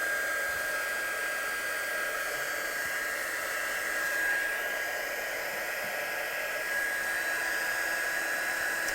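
A heat tool blows steadily to dry watercolour on a stamped card, giving a constant, close, loud whooshing whir with a faint high tone, unchanging throughout and with no talking.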